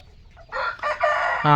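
A Peruvidai hen clucks and squawks in short bursts, close by and fairly loud, ending with a sharper, higher cackle.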